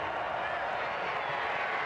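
Steady roar of a cheering crowd filling a football stadium during a 2017 Hawaii at Wyoming college game, continuous and fairly loud throughout, with no clear voices above it.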